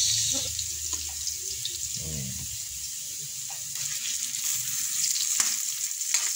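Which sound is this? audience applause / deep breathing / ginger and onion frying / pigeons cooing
ginger and onion frying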